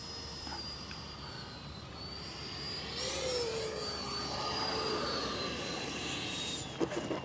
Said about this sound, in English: I'm gonna bring it in for a landing